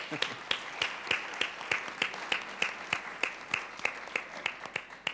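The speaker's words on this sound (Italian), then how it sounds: "Si può applaudire?" A small audience in a talk on staying warm through the crisis claps in a sparse, rhythmic way, individual hand claps standing out as steady sharp beats at moderate level, with no voices over them.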